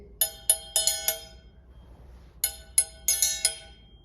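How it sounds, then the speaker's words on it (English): A triangle is struck in two short rhythmic bursts of quick ringing hits separated by a brief pause, clear and close with no voices. "let's now see one of many ways of how to play the triangle."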